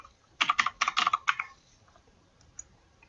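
Typing on a computer keyboard: a quick, close run of about a dozen crisp key clicks in a short burst, then quiet with one or two stray taps.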